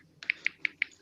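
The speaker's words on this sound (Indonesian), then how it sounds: "Yang ngetik di mute aja dulu itu." Four crisp, evenly spaced keyboard keystrokes tapping close by during an online discussion, with faint room noise underneath and no voices.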